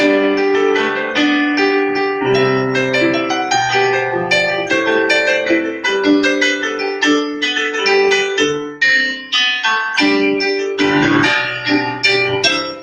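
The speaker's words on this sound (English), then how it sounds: "we might first encounter it as a piano student with the Bach minuet that sounds like this" Solo piano plays a light, flowing Bach minuet in triple time, even melodic notes over a simple bass line, clear and close.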